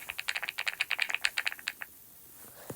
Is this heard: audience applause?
no